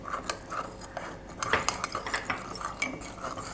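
A spoon stirs fruit custard mixture in a pan, making soft scrapes and small metallic clinks in an uneven rhythm, close and fairly quiet.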